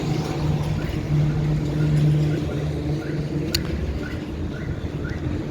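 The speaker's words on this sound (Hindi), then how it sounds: "ये हो रही है टैक्सी रिवर्स गियर" A taxi idles and creeps backward in reverse gear, its engine a steady low drone with a faint whine, heard from nearby outdoors with light background noise.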